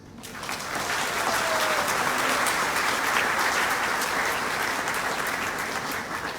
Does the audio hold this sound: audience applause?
yes